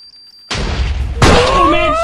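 Upgraded TNT explodes in Minecraft with a datapack: after a faint steady beep, a heavy blast erupts, followed by a second, louder blast with crackling debris and a descending rumble, near and loud.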